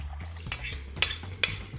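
Sambar masala and dal are stirred in a pot with a metal spoon, giving three distinct scraping clanks against the pot over a low bubbling background.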